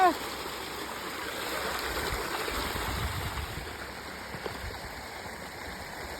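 Water rushes steadily through an irrigation channel fed by a pump set, a continuous close gushing roar, with faint voices now and then.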